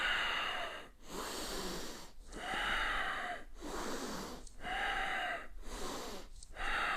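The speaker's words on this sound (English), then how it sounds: "Inhale as you come down, exhale as you come up." Heavy, rhythmic breathing from a person doing bodyweight squats, with loud breathy inhales and exhales alternating in a steady cycle of about five breaths, each separated by short pauses, close and alone without speech.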